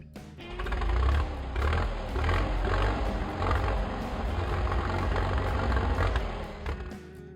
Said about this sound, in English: Exactly. Tractor.